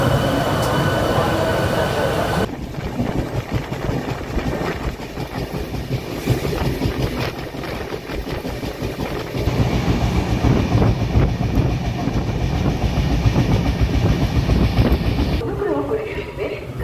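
An LHB passenger train from Kolkata to New Jalpaiguri rolls slowly at around 12–15 km/h, giving a steady, loud rumble of wheels and carriage noise throughout, with a brief voice near the start.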